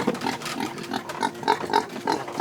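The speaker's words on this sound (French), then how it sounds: "This is your pig?" A pig on a farm grunts and snuffles in a rapid rhythmic series of short close grunts, moderately loud over an outdoor background.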